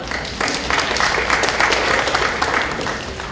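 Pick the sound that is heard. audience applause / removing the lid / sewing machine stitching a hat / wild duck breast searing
audience applause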